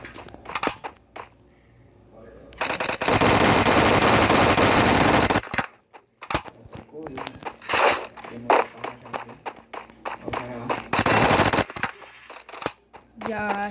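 Machine gun fire in a mobile shooting game: loud, sustained automatic bursts lasting a couple of seconds each, broken up by clusters of sharp single shots and clicks at close range.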